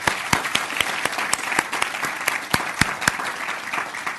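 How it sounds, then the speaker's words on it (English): Applause for the panellists at the close of an online commercial awareness webinar, a steady round of many hands clapping with sharp individual claps standing out, continuous for several seconds with no talking. "Big round of applause for them."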